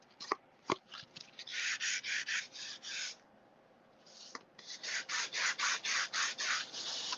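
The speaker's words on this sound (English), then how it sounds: "I see that I need to sand the sides there" Sanding the rough side edges of a top-folding handmade greeting card, a run of quick rhythmic rasping strokes in two bursts, close and fairly loud, with a couple of sharp taps near the start and a short pause between.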